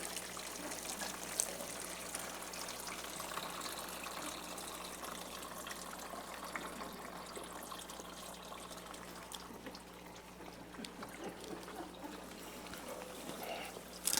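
Water pours steadily into a bucket, a continuous gushing splash that holds at an even, fairly quiet level throughout without pause.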